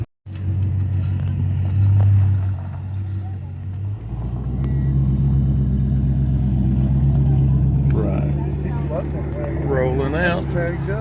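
A Chrysler car pulling away and rolling out, its engine rumbling low and steady, then revving as it picks up speed, with people talking over the motor near the end.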